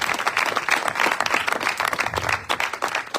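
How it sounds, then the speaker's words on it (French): A church congregation claps for its pastor, dense steady applause from many hands filling the room, loud and sustained for a few seconds with a light murmur of voices mixed in. "Est-ce que nous pouvons applaudir pour lui?"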